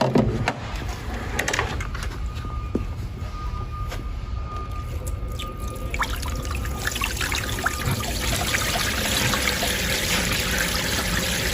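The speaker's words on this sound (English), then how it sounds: "so the water is running onto the parking lot, but it's getting held back and filling up this pond" Simulated rain water trickles and pours steadily off a model parking lot into a small pond, a continuous close splashing, dribbling sound that grows fuller partway through.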